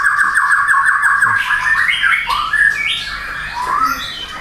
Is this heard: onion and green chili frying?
no